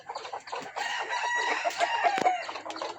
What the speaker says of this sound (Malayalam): ഫുൾ വൈറ്റ് ഒരു പൂവൻ കോഴിയാണ്